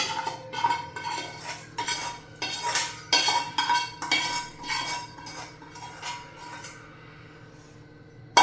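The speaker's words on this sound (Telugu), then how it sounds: "మొత్తం మిక్స్ అయ్యేలాగా బాగా కలుపుకోవాలి" Tamarind rice being mixed with gravy in a metal vessel, a ladle scraping and clinking against the sides in repeated rhythmic strokes, loud and close, slowing and fading toward the end with no talking.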